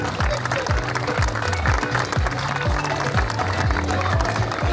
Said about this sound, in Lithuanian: Plojimai ir Tautvydui.